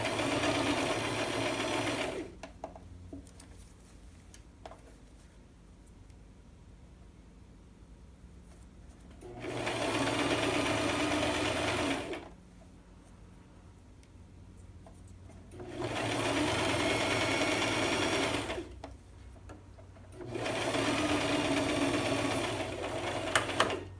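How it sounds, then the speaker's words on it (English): A sewing machine stitching around a sleeve cap, running in three long steady bursts of rapid needle clatter separated by quiet pauses, close and clear with no talking. "I'm going around the sleeve cap now."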